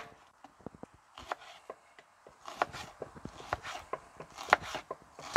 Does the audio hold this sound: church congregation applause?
no